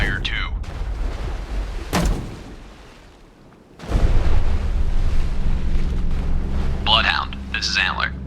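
Depth charges detonating in the naval game Destroyer: The U-Boat Hunter, deep rumbling booms with a sharp blast and a long low roar, heavy and close, with brief sonar-like tones near the end.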